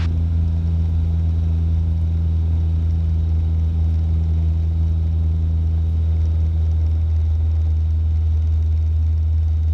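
Steady engine drone and rushing air from a light aircraft in a descent during a flight lesson, a constant low hum with strong tonal bands that holds throughout, loud and close with no talk.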